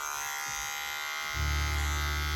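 Electric hair clipper buzzing steadily during a home self-haircut, a low hum that swells louder and fuller partway through as the blade meets hair, close by with no talking.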